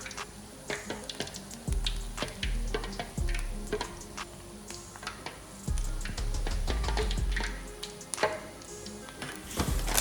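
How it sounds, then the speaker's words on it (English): Puff puff dough sizzles and crackles in hot oil, a continuous frying hiss with occasional stirring scrapes and clanks from a pan nearby. "let me allow you to listen to the sizzling sound"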